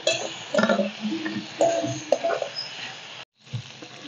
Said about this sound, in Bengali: এখন দিয়ে দিব ভেজে রাখা আলু পটল। আলু পটলটা দিয়ে ভালো করে কষবো।